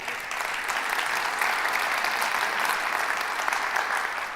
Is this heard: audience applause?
yes